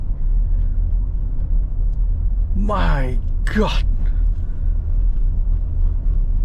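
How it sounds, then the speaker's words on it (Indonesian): From inside a 2022 Toyota Innova Reborn 2.4 V diesel automatic, tyres roll over brick paving with a steady low rumble throughout, and a short exclamation cuts in midway. "permukaan jalan batu bata batako ketemu dengan ban."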